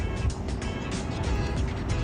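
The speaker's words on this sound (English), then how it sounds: "He revs his motor a little bit, car sounds good." Black car pulling away from a green city traffic light, its engine revving lightly amid steady street traffic rumble, a continuous moderate drone with faint swells and no speech.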